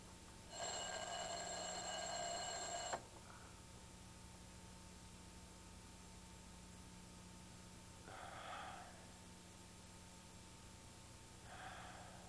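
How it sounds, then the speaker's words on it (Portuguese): An alarm clock ringing with a bright, steady electronic tone for about two seconds, then stopping, followed by two short breathy sounds like snorts or sighs in a quiet room. "Em vez de ser acordado por uma inspiração, sou acordado pelo despertador."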